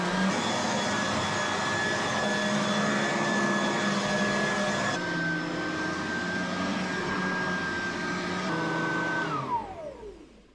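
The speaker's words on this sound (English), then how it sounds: "Just gonna finish vacuuming here real quick" Vacuum cleaner running steadily on a cluttered bedroom floor, a loud continuous whine with a steady motor drone that shifts pitch midway and winds down as it is switched off at the end.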